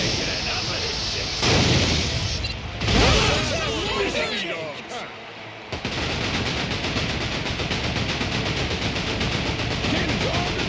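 Ship cannon fire in the video game Like a Dragon: Pirate Yakuza, repeated loud booming blasts and crackling bursts layered with game music and chatter, a brief lull near the middle before dense firing resumes.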